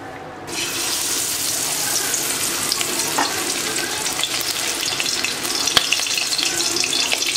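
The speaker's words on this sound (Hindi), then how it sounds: "अब मैं ये जो फिश का ऑयल है इसके साथ मैं पकोड़े बना लूंगी" Pakoras frying in fish oil, a dense bright hiss of bubbling oil that begins abruptly and holds steady with occasional small pops, no voices.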